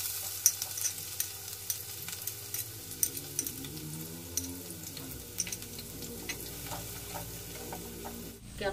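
Chopped onion frying in oil with cinnamon, cardamom and cloves for fried rice sizzles softly while a utensil scrapes and clicks against the pan, with a brief louder clatter near the end.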